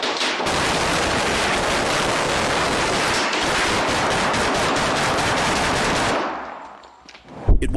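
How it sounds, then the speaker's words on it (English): Sustained rapid gunfire from a suspect during a police standoff, a dense, loud burst of continuous shots lasting about six seconds before breaking off into a few scattered sounds. "suspect's relentless gunfire left the officers unable to breach his door without risking being shot"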